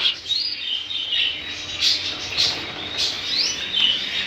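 Small caged budgerigars in a pet shop chirp and tweet continuously, bright high calls repeating close by, with squeaky rising notes scattered throughout.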